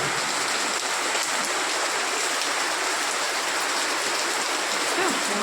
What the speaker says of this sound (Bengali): বৃষ্টি দেখতে আমার দারুণ লাগে।